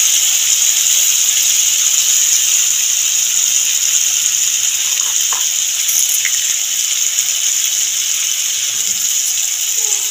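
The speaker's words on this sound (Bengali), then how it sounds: "মশলাটা দিয়ে দেবো টমেটোর মধ্যে।" Spice paste soaked in water is tipped into fried tomatoes in a hot pan, giving a loud, steady hissing sizzle that holds evenly throughout.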